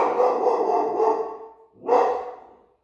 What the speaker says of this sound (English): I'm going to pause it and get my dog under control.